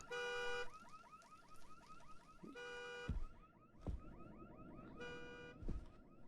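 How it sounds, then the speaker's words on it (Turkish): A car alarm in a garage in the horror game Visage blares in repeating cycles of warbling and steady electronic tones, heard at a distance with a few thumps in between. "Garajda sesler var. Arabamızın alarmı çalıyor."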